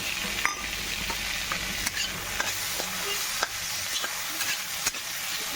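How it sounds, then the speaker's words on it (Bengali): Tomatoes fry in a pan with a continuous, even sizzle, broken by occasional sharp clicks and scrapes of a spatula stirring them. "ভালো করে ভাজা ভাজা করে নেবো এটাকে মোটামুটি ভাজা হয়ে এসছে টমাটমটা একটু ভাজা হোক"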